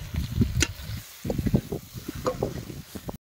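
Eggplant sautéing with spices and coriander powder in a pan, giving a close, steady frying sizzle broken by scattered stirring scrapes and knocks.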